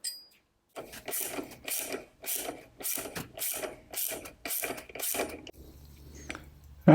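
A hand ratchet clicks in repeated bursts tightening nylock nuts and bolts during final assembly of a GY6 scooter build, about nine quick ratcheting strokes close up, each a sharp rapid clatter with brief pauses between.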